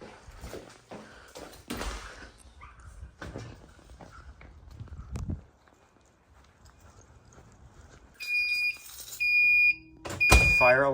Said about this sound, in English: Fire alarm in-house